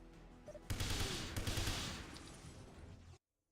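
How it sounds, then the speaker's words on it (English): Rapid AK assault rifle fire in the 007: Everything or Nothing video game, a dense burst of close gunfire with cracking shots lasting about two and a half seconds before cutting off abruptly. "get the AK out."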